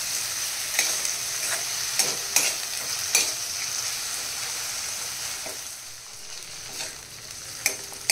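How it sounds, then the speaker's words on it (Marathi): Tomatoes fry in a pan for a spicy chana dal and onion curry, giving a steady, close sizzle with a few sharp clinks and scrapes of stirring scattered throughout. "टोमॅटो आपल्याला इथे छान फ्राय करायचा आहे, त्याचा कच्चेपणा जाईपर्यंत"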